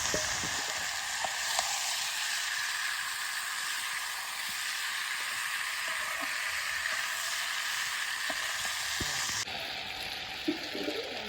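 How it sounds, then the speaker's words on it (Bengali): Fish fry in a curry pan with a strong, continuous hissing sizzle, a few faint clinks of a utensil scattered through it, and a sudden shift in tone near the end. "এর মধ্যে মাছগুলো দিয়ে দেবো।"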